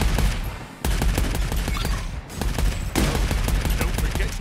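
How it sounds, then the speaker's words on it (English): Assault rifle gunfire in the Arcadegeddon video game, a rapid run of loud, sharp shots fired in steady automatic bursts with a brief gap near the middle, dense and close throughout. "A milli-grade grunt assault rifle! See those Sapper bots? Give them hell!"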